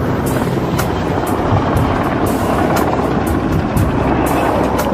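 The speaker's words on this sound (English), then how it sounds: "military helicopter suddenly swoops in for a closer look" An unmarked Black Hawk-type military helicopter circles a mountain peak, its steady rotor thrum and rhythmic blade slaps loud and continuous, with no voices.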